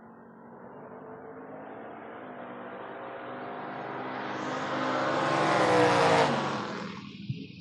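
A Monte Carlo and a Mustang run a drag race at the 2024 FRBR Door Wars, their engine roar building steadily to a loud peak and then falling away quickly as they pass.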